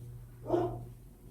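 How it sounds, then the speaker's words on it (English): A dog barks once indoors, a short muffled yelp rising briefly over a steady low hum, somewhat distant and moderately loud. "you might be able to hear my dog right now"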